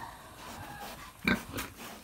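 A newly bought sow on a farm gives a single short grunt at moderate volume over a faint background murmur.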